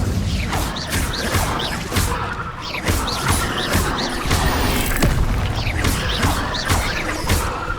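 Repeated Incendio fire spells blast in Hogwarts Legacy, a rapid series of loud booming bursts and crashes, roughly a dozen hits in quick rhythm, close and continuous.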